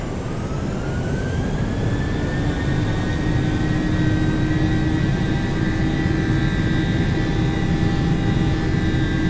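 PMDG Boeing 737-800 jet engines at takeoff thrust in Microsoft Flight Simulator, a loud steady roar with rising whining tones as the engines spool up, continuous and close, with no talk.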